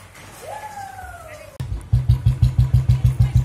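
A motorcycle engine catches with a sharp click and settles into a loud, close, rhythmic throbbing putter. A brief rising voice-like tone comes just before it.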